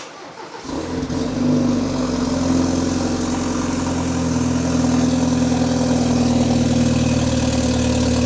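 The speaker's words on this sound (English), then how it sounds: "Now that it has a downpipe on, I'm curious what a cold start on a B48 sounds like." A BMW 330i with a B48 engine and an aftermarket downpipe cold-starts with a short crank and catch, then settles into a loud, steady, droning high idle that continues to the end, close by with no talk.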